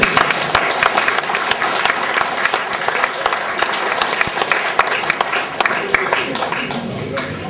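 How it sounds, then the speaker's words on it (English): An outdoor crowd at the 2005 Stromness ploughing match claps steadily for a contestant, giving dense, even applause throughout with some cheering mixed in. "please clap your hands and give a noisy shout to a dangerous Darren Weir"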